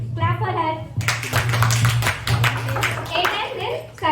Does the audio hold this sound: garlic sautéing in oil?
no